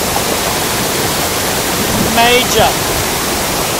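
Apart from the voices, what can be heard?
waterfall at Macquarie Pass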